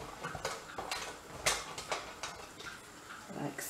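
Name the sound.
grating cheddar cheese with a grater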